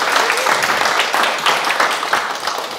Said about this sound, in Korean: 여러분 축하 박수.